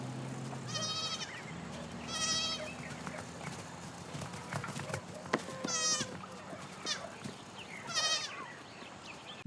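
Goats bleat several times in a quiet village that has suddenly emptied, the harmonic cries repeating at intervals over faint background noise, with a low hum fading early on.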